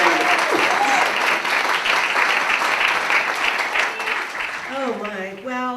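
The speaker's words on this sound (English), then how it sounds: "Please give her a round of applause." Sustained applause from an audience at a gala awards dinner, dense steady clapping filling the room, with a voice beginning to speak as the clapping fades near the end.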